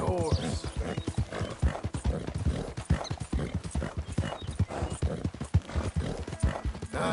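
In the video game Red Dead Redemption 2, rapid hoofbeats clatter in a steady rhythm, with a horse whinnying partway through and a voice speaking over the gallop.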